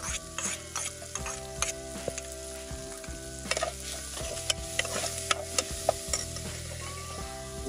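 Garlic fries in a pan with bacon fat nearby, a steady close sizzle broken by frequent stirring scrapes and clicks, with no talk.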